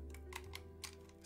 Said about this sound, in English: Let's see how good we can make this keyboard sound.